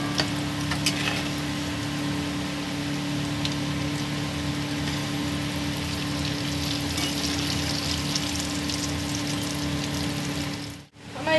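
Fish fingers fry in hot oil in a home kitchen, giving a continuous, even sizzle that holds steady and briefly drops out near the end, with no talk.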